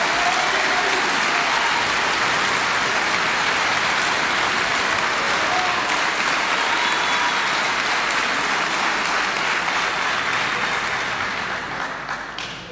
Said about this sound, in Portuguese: depois dos aplausos